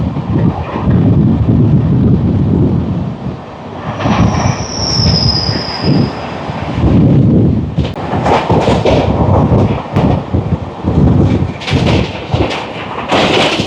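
A Rajdhani Express from Howrah to New Delhi runs at high speed on a winter day. A loud, steady rumble of wheels on rail carries rhythmic clatter, with a high wheel squeal rising briefly in the middle.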